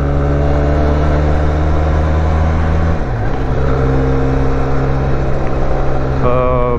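A 2020 Benelli TRK 502 motorcycle engine drones loudly and continuously, its pitch dipping and then rising again as the rider revs, heard close from the saddle amid wind noise.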